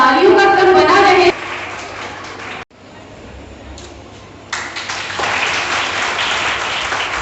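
Applause at a local gathering in Varanasi, a dense wash of clapping that drops off sharply, leaves a quieter gap, then swells back to a steady roar.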